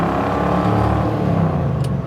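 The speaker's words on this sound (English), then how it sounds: "I'll demonstrate what a 3-speed is like. 3-speed's fun. I'm in first gear." A classic car with a 3-speed manual pulling in first gear, a loud steady engine drone filling the cabin, heard close and continuous with no talking.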